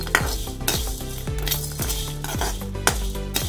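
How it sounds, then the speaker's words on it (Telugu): Dried coconut and coriander seeds are dry roasted in a kadai, a metal spatula scraping and stirring in quick repeated strokes with light rattling, close and alone. "ఎండు కొబ్బరి ధనియాలని ఇలా వేయించుకోవాలి"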